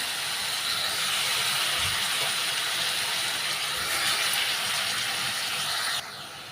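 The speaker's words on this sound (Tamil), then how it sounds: "அந்த வெங்காயம் தக்காளி பூண்டு கூடவே வந்து இந்த பாவக்காவை நல்லா வதக்கி விட்டுக்கலாங்க" Bitter gourd sautéing in oil with onion, tomato and garlic gives off a steady, dense hissing sizzle that runs for several seconds, then drops suddenly quieter near the end.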